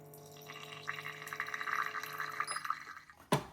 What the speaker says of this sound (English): we'll go ahead and dispense some water